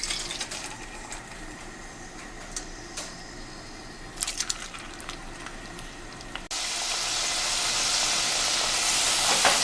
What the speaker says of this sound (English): So now I'm gonna add my potato into the oil.